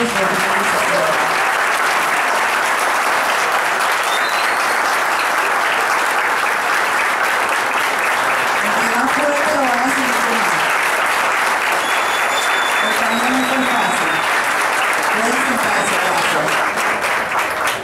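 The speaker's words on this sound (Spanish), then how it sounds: "van a dar un fuerte aplauso a este grupo de graduantes" A graduation crowd applauds continuously for the whole stretch, dense and steady clapping with a few faint voices and whistles rising through it.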